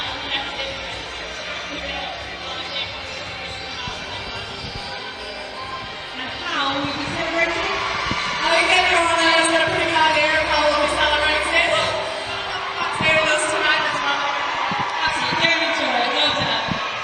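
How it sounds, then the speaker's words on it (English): Fans cheering and celebrating a netball trophy final win in Nottingham as they run onto the court, a broad crowd roar that rises around the middle and stays loud, with a commentator talking over it throughout. "there they are cheering and celebrating"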